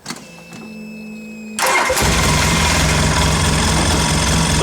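A Polaris RZR side-by-side in park cranks briefly over a faint electrical whine, then catches and roars into a loud, steady, close engine drone with a hint of revving.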